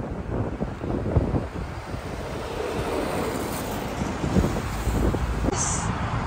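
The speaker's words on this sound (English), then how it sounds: "There's a waterfall inside the mall, guys." An indoor waterfall inside a Dubai shopping mall roars as a constant broadband rush, like surf or wind, with faint voices and mall ambience mixed in throughout.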